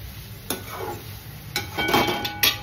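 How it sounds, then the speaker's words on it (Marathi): Poha being stirred in a kadhai with oil and onion, giving short scraping strokes and a soft sizzle, with a few louder scrapes near the end. "असं मस्त छान पोहे ढवळून घ्यायचे"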